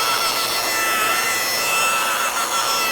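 Rotary polisher with a pad buffing the paint of a 1964 Oldsmobile Dynamic 88, a continuous close whirring and rubbing drone that holds steady throughout with no voices.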